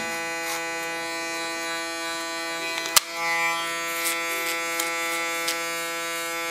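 Electric clippers buzzing steadily while trimming the neckline during a summer haircut, a close, even drone with a sharp click partway through and faint brushing ticks on top.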